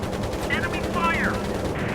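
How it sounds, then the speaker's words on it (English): Heavy anti-aircraft gunfire in the Pacific carrier flight game Air Conflicts: Pacific Carriers, a steady dense rattle of bursts and distant booms running throughout under game sound effects and voices. "Heavy AA fire."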